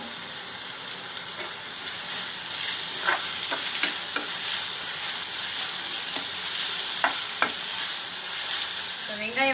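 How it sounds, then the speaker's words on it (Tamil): Onions sautéing with salt in a pan for a dried koduva fish thokku, a steady close sizzle running throughout, broken by occasional scraping stirs of a spoon against the pan. "வெங்காயம் ஒரு 4 பதம் வதங்கணும்"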